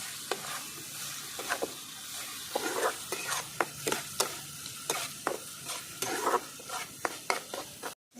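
Spice paste with tomato for a tilapia curry is stir-fried in a pan, a steady sizzle punctuated by regular sharp scrapes and taps of the spatula, close and clear.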